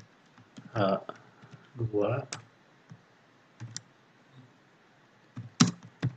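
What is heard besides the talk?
typing on a keyboard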